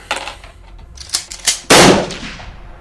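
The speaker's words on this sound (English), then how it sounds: "we will use our Litany's empowered master shotgun. Shooting down through the ruins" Shotgun fire in the Star Quest game: a few sharp clicks and snaps lead up to one loud, close blast that rings and fades out slowly, with no talking.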